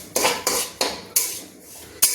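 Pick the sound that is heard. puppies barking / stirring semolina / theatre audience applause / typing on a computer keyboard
stirring semolina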